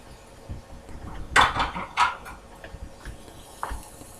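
Egg and cut-up provolone cheese being mixed in a bowl for a healthy breakfast; a few soft utensil scrapes and clinks against the bowl, with two louder knocks near the middle, fairly close and otherwise quiet.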